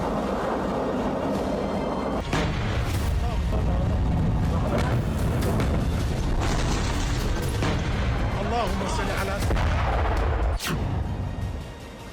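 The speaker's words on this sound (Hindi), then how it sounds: "रात के अंधेरे में मिसाइलों से भीषण वार।" Missile strikes at night in a war report on the Russia-Ukraine war: heavy booms and blasts rumble over dense, loud low-frequency noise, with a sharp crack near the end.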